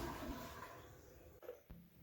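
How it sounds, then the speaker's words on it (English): A toilet flushes somewhere down a hallway, a soft, distant rush of water that fades, then ends in two short gurgles. "Or someone flushing the toilet down the hall."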